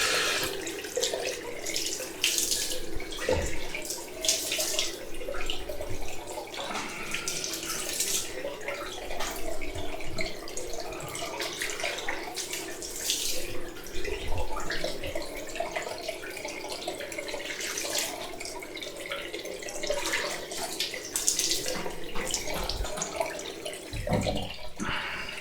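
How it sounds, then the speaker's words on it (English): Cold water runs steadily from a bathroom sink tap during a shave, a continuous splashing hiss with small irregular spikes as it hits the basin, close and moderately loud, with no talking. "wash off straight away with cold water"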